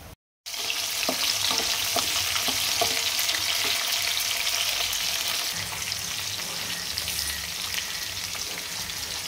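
Cumin seeds sizzle steadily in hot oil, a dense continuous crackle that holds strong from start to finish with scattered sharper pops early on, nearby and alone with no talking.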